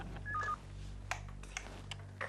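A telephone keypad dialed in a quiet room in a Hindi sitcom: a steady tone pair sounds first, then several short separate beeps follow at uneven gaps over a low hum.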